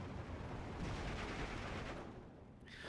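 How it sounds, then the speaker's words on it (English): Artillery shells land in Steel Division 2, a dense, continuous roar of blasts that stays loud and heavy throughout, easing slightly near the end before a final burst. "See, now my artillery falling"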